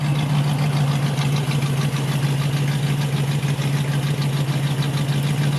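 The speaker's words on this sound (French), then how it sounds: "Un très beau ralenti aussi, hein. On voit un moteur qui tourne bien," A 1961 Chevrolet Corvette engine idles steadily with a deep, even rumble and a smooth rhythmic pulse, heard up close from the exhaust.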